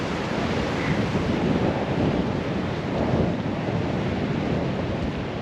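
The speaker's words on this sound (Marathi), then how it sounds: "लाटा पण चांगल्या प्रकारे उसळत आहेत." Sea waves surging onto the shore at Alibag in monsoon rain, a loud continuous roar of surf with wind buffeting the microphone and no voices.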